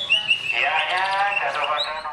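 A songbird sings continuous rolling, varied trills and warbles at a bird singing contest in Java, bright and close, filling the stretch with dense, harmonious phrases and no break.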